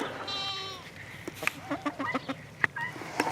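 Chickens on a farm on a cold morning give short, irregular clucks and calls close by, quiet but distinct against a soft background.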